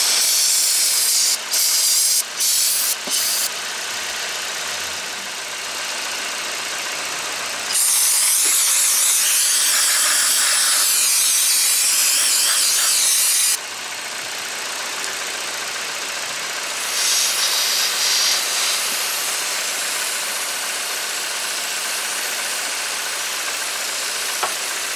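Water sprayed from a hose or pressure nozzle to rinse spilled fluid off a 2015 Honda Civic during a brake pad and rotor job, a loud continuous hiss in long bursts with brief spurts at the start and quieter pauses between.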